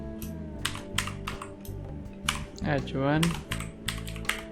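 Code is typed into a ReactJS app file on a computer keyboard in quick clusters of crisp key clicks, while someone talks quietly over the typing.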